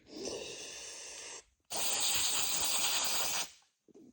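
Carburetor cleaner sprayed on a lawn mower, two loud close hissing bursts, the first about a second and a half, then a brief gap and a longer second blast, ending with faint clatter.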